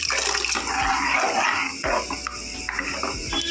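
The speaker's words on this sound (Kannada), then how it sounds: "ಇದು ಬೇಯಿಸಿರೋದು ನೀರು ಹಾಕ್ಕೊತಾ ಇದ್ದೀನಿ." Water splashes and pours into a pot of boiled mixed greens for soppina sambar, a rushing, gurgling stream broken by short clanks and bumps of the vessel.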